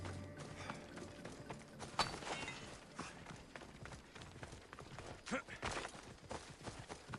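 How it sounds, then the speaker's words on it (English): Rapid clip-clop of horse hooves galloping in Assassin's Creed Odyssey, rhythmic and fairly quiet under game sounds, with a voice talking over it. "Horse, make yourself present."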